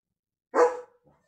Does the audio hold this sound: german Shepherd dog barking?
yes